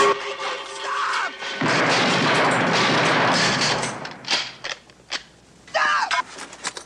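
Gunfire erupts in a film action scene involving Texas police, a dense burst of loud cracks and booms mid-clip followed by scattered shots and shouting.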